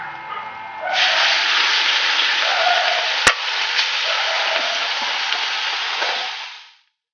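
Masala-marinated squid, chicken and prawns dropped into hot oil for frying burst into a loud, steady hiss and crackle, with one sharp click midway, before the sizzle fades away at the end.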